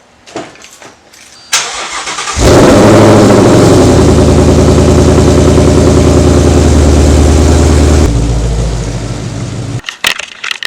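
A 2018 Chevrolet Camaro SS 1LE V8 cold-starts with a loud crank and bark at about two seconds, then settles into a heavy, steady high idle that drops slightly near the end before cutting off.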